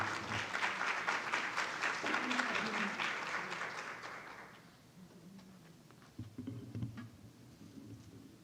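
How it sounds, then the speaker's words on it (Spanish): A crowd at a women's commission session claps loudly for a speaker, a dense burst of applause that fades after a few seconds into quieter room noise and faint murmuring. "Con un fuerte aplauso,"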